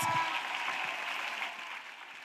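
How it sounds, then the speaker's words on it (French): Congregation applauding at a church gathering, a broad wash of clapping that starts strong and slowly tapers off over about two seconds, with no voices on top. "Acclamation à Jésus Christ. Clap ring for Jesus Christ."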